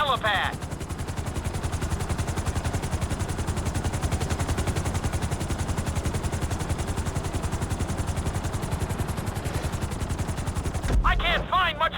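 A helicopter in GTA V sets down on a helipad during flight school, its rotor making a dense, rapid chopping thud that stays loud and steady for most of the time before cutting out near the end.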